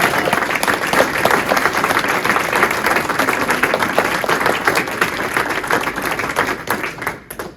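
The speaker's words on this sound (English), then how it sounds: "Please give a big, warm round of applause for our organizer, Steve Rock." Audience applause, a dense, sustained round of clapping from a crowd that holds steady for several seconds before tapering off at the end.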